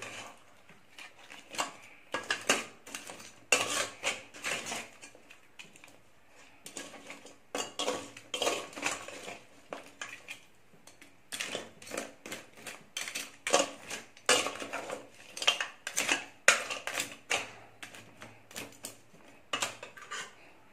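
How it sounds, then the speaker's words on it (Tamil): Crab pieces being stirred with spice masala in a metal vessel, a steady run of close clinks, scrapes and clattering knocks that keep repeating in busy bursts, with no voices. "கொஞ்சம் கிளறிட்டு அதுக்கப்புறமா நம்ம கையை வச்சு கிளறி"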